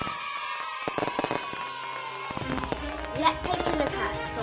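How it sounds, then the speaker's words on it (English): Fireworks for a Guy Fawkes Night celebration: scattered sharp bangs and crackling bursts ring out at moderate distance over a sustained tonal musical background. "Let's take a look at some wonderful fireworks."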